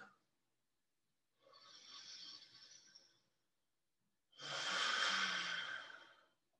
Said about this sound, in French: Toujours cette respiration Ujjayi, lente, longue et profonde.